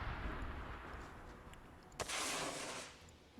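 A grenade explodes in the Arma 3 video game, a single sharp blast that gives way to a loud rumbling roar and then fades, with a steady low background noise throughout.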